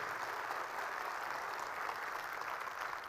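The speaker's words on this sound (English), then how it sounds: "So I think that deserves a clap." A live audience claps steadily at an electric motorcycle launch event, the sustained, dense applause holding at an even level for the whole stretch with no voices standing out.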